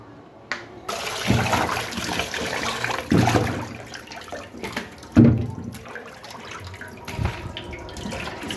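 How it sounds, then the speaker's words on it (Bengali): Fish being washed under running water in a home kitchen: a close, splashy tap stream with sloshing and several bursts of louder rinsing. "মাছটা অনেকবার বারবার ধুয়ে নিচ্ছি"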